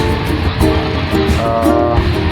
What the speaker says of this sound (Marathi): अजून ट्रेन चाललीच आहे